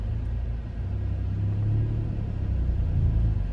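A Hyundai i20 N Line pulls away from standstill in a launch, its engine a low steady rumble that builds slightly as the car accelerates, with no talking over it.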